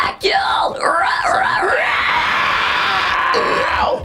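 A person performs a shrill inhaled scream that imitates a pterodactyl screech, loud and close, with wavering, gliding pitch and a sustained rasping edge lasting several seconds.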